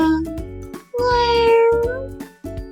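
Several loud, close cat meows come one after another, drawn-out and wavering, with a short pause between some of them.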